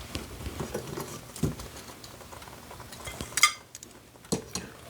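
Dishes and cutlery clink and scrape as chicken fried moose minute steak is served up, with scattered light taps, a sharper clatter near the middle, and quiet, close handling sounds throughout.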